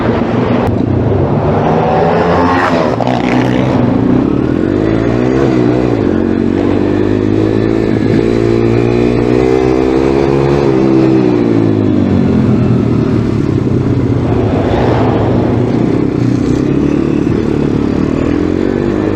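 A pit bike engine on a kart track revs and pulls in a loud, continuous drone, its pitch rising and falling in repeated surges as the rider works the throttle and clutch, close to the microphone with no talk.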